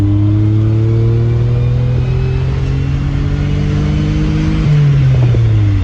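Peugeot 605 SV24 with its 3.0 V6 engine pulling hard on an open road, a loud steady engine drone heard from inside that climbs in pitch, drops briefly at a gear change and then rises again.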